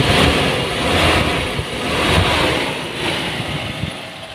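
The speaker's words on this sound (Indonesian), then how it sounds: "Raungannya khas Kijang banget pokoknya." A 1996 Toyota Kijang Super G idles with its engine bay open, giving a smooth, steady, fairly loud mechanical hum with gentle swells and no knocks or odd noises.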